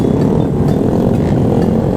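Motorcycle engine revved hard with the throttle opened during a group ride in Padang, a loud continuous roar close by with no talk over it.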